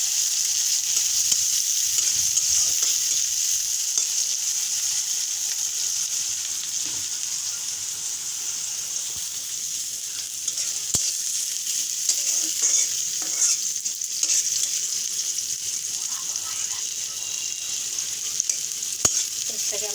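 Chopped onions fry in oil in a pan for an eggplant dish, giving a continuous bright hiss. Occasional stirring scrapes and small clicks break through, heard close up with no voices.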